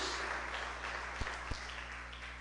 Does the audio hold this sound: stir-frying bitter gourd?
no